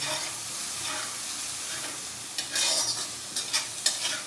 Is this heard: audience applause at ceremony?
no